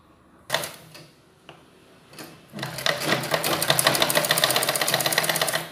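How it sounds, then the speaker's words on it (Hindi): A sewing machine stitches the back neck strip of a suit, starting with a few hesitant clicks before settling into a fast, steady, rhythmic run of needle strokes close by. "गले पट्टी का पहले साइड वाला हम सिलाई करेंगे"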